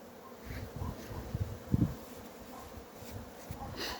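Bees buzz close by in a steady drone at a hive, with individual insects rising and fading as they fly near, no voices present.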